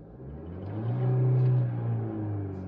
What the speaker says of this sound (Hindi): न्यूट्रल में डाल के रेफ करके दिखाता हूँ आपको एक बारी, न्यूट्रल हो गया ये, अब मैं रेफ करूँगा फिर देखो।